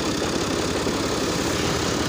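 A car engine idles with a steady, low, rough rumble, constant in loudness throughout and with no voices over it.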